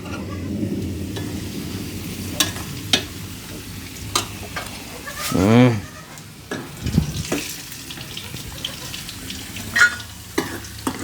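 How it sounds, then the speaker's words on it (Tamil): Potato stir-fry frying in oil on a stove while a grandmother cooks, a steady low sizzle broken by scraping stirs and clanks of a utensil against the pan, with no talk. "உருளைக்கிழங்கு பொரியல் பொறிச்சிட்டு இருக்கு"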